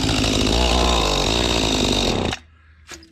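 A Mantis tiller's small gas engine running with the choke on at full throttle, a loud, steady, high-revving drone that cuts off abruptly after a couple of seconds, leaving quiet handling noise.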